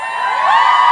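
Audience cheering and whooping at a Harry Potter cast reunion Q&A, a loud, sustained crowd roar that builds steadily over a brief moment.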